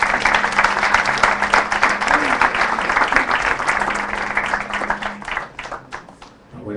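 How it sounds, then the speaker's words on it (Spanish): An audience at a forum on drug decriminalization in Guatemala applauds, a dense, loud, sustained wash of many clapping hands that tapers off toward the end, with a faint voice underneath. "para quien pido el más cálido de los aplausos"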